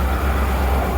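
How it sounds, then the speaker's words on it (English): A 1972 Ford C600 cab-over truck with a 361 engine runs steadily close by, its exhaust manifolds leaking, giving a dense, loud, rumbling drone with a strong low throb and no talk. "Exhaust manifolds are definitely leaking."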